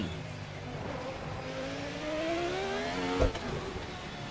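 A 1990 Formula RSS V10 race car in the Assetto Corsa racing game brakes hard: the high engine whine climbs and then drops sharply with a quick downshift burst, loud and close with no talking.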